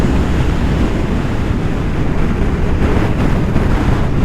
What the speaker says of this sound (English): So as you can probably hear, the wind's incredible and it's coming from all directions